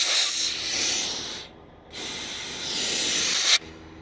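Air hisses out of a disconnected air line on a truck's lift axle in steady, loud bursts that stop for about half a second, resume, and then cut off abruptly.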